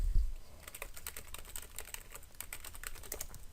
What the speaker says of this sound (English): What did I want to type?